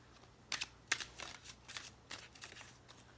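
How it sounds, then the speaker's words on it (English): Oracle cards being shuffled and drawn, a run of crisp riffling card flicks and slaps in quick irregular bursts, close and fairly quiet with no voices. "Let me choose an Angel Answers card for you guys"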